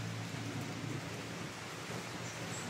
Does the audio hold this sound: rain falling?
yes